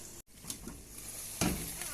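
Meat fries slowly over low heat in a pan with a steady, soft sizzle, broken by a brief dropout and then a louder crackling burst near the end.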